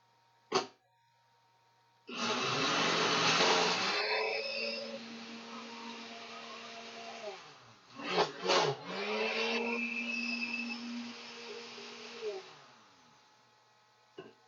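A blender whirs through a fruit smoothie in two sustained bursts with a pitch dip between them, loud and close, preceded by a brief knock and with no talk over it.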